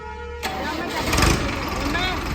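A tractor engine cranks and catches, rising from a starter whine into a loud, close running rumble that holds steady to the end.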